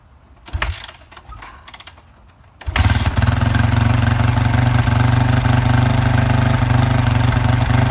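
A 2005 Yamaha WR450F dirt bike with an FMF Powerbomb header and Q4 slip-on exhaust cold-starts after a few short mechanical clunks and kick attempts, then settles into a loud, steady, close-up idle that holds to the end.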